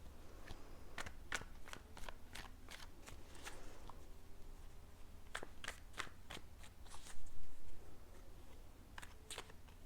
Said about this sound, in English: I'm going to pull some tarot cards for you